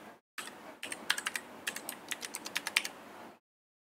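A password is typed on a computer keyboard: a quick run of soft, close key clicks lasting about three seconds, faint and without talk.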